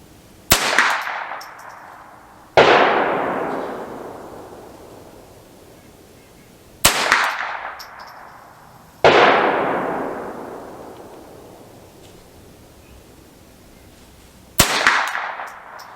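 Ruger 10/22 rifle firing .22 LR CCI Mini-Mag rounds, five sharp loud cracks spaced irregularly, each ringing out with a long decaying tail outdoors.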